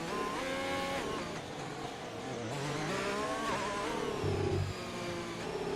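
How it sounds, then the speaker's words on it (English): A C63 race car in a racing video game, its engine revving through repeated rising and falling sweeps as the gearbox shifts. The whine is fairly loud and continuous, with no talk over it. "He's making music with his gearbox for us to all"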